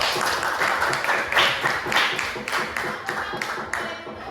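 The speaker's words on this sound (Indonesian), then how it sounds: "Berikan aplaus untuk kelompok 1" A classroom group claps for group 1 after its presentation, several people applauding in a fairly loud, steady patter that tapers off toward the end.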